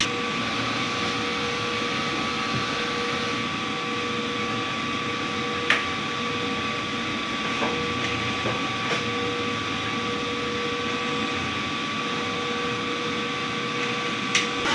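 A DTF printer running its head cleaning cycle, producing a continuous mechanical whir and hum with a few faint clicks and knocks, steady and close.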